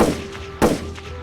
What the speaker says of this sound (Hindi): इसी के साथ चारों एक साथ गोली चलाते हैं